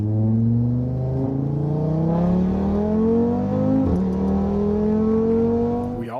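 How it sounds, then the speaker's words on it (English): An Audi quattro five-cylinder engine revs up repeatedly, its pitch climbing in long sweeps with a brief dip midway, loud and close throughout with no voices. "now you have this amazing 5-cylinder engine in there, which again, you hear it for the first time and you can't help but fall in love with it"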